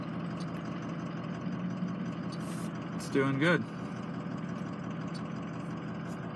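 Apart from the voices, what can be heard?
Ford 6.0 Powerstroke diesel engine idling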